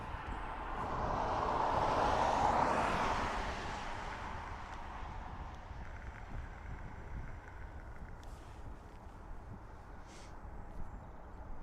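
A passenger airliner on final approach to Dublin Airport, heard as a broad distant roar that swells over the first few seconds and then settles into a steady, fainter rumble.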